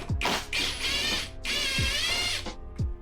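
Milwaukee power tool working on a scooter part, with a whirring, ratcheting drive in two long bursts, punctuated by short descending motor spin-downs, close and fairly loud.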